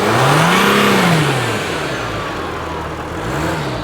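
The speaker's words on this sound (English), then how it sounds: "rev up the engine for us" A Mercedes Sprinter van that keeps losing power, suspected of a boost leak, has its engine revved up close by. The pitch rises and falls in a strong rev before settling into a lower, steadier drone.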